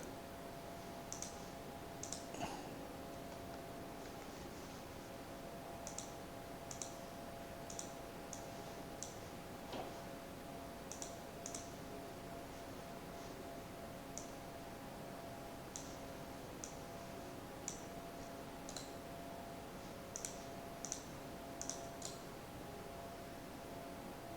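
Repeated small mouse clicks while working in Blender 3D modelling software, sharp and faint, coming singly and in quick pairs at irregular intervals over a steady low hum and hiss.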